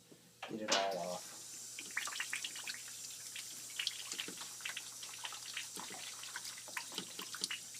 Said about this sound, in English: So again, just wash until you get it all off.